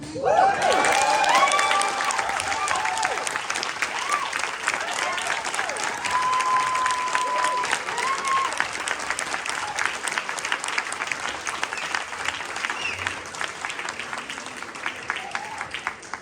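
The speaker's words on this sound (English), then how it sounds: "We just started with that and we're already cheering." Sustained audience applause with cheers and whoops at a Washington State legislator's event, a loud dense clatter of many hands that fills the room and slowly tapers off.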